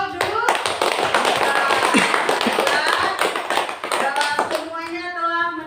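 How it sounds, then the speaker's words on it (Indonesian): Classroom clapping for a student group, loud, close, rapid hand claps from many people in an uneven burst that lasts several seconds, with a voice talking over it near the end. "Beri tepuk tangan untuk kelompok dulu"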